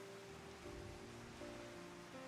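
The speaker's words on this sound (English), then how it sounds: "it's just been pouring rain and horrible looking this entire time" Steady pouring rain in Final Fantasy XIV, a constant soft hiss of falling water with a faint low tonal hum beneath, unbroken and even throughout.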